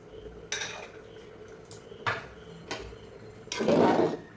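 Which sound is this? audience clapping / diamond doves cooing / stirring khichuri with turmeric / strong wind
stirring khichuri with turmeric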